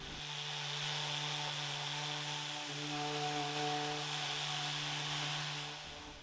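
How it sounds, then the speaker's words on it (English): A constant, low mechanical hum of sanding antique dresser drawers with 150-grit sandpaper drones on evenly, fairly quiet, with no talking. "I'll first use 150 grit sandpaper to refresh every square inch of these drawers."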